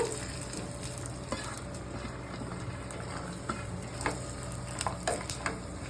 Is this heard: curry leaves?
yes